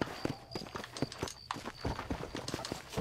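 Horse hooves in Red Dead Redemption on Xbox One X clop in a quick, steady walking rhythm, close and distinct, with faint voices barely present.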